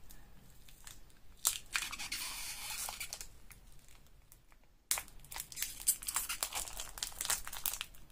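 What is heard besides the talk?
aluminium foil being moved and crinkling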